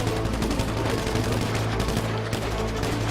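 Dense shotgun fire in a shooter video game, with heavy blasts following each other in quick, overlapping succession for a few seconds, loud and close with no pause in the barrage.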